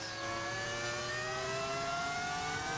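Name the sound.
V10 engine sound of F1 car, from video game F1 25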